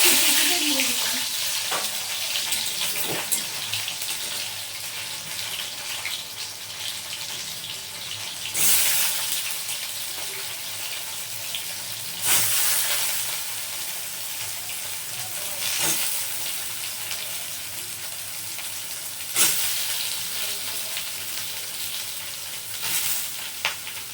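Soybean chunks frying in hot oil for a Bengali steamed soybean dish give off a steady, close sizzle that runs the whole time, with a few sharp clatters and louder bursts recurring now and then.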